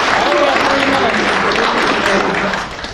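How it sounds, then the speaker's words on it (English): An audience at a political debate applauds, a steady, loud clatter of many hands clapping that holds for a few seconds before starting to fade. "everybody in the military appreciates that applause"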